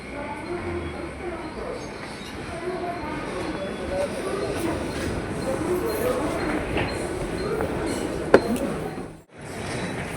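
A Mumbai local train, the Churchgate fast, pulls into a station with a loud, continuous rumble and rattle that fills the scene, broken by a single metallic clink shortly before the end.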